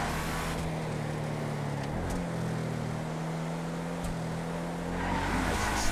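A Vapid Dominator GTT, modelled on a 1969 Ford Mustang Boss 302, brakes and corners on the Nordschleife in a racing game, its engine holding a steady drone with short shifts in pitch and faint tyre noise, fairly quiet.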